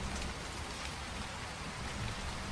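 Rain falls in a steady, soft, broadband hiss with faint patter, quiet and unbroken from start to finish, with nothing else audible.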